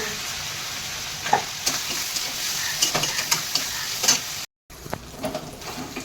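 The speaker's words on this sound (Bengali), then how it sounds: "এবার চিকেন ভাজাগুলো রেডি হয়ে গেছে" Chicken pieces frying in a pan give a loud, continuous sizzle with stirring scrapes and clinks throughout, cut by a brief drop to silence near the end.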